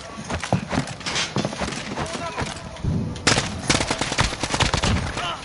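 Gunfire in a PS4 first-person shooter, with bursts of rapid shots and sharp single cracks mixed with game effects, loud and close, under a player's radio-style callouts.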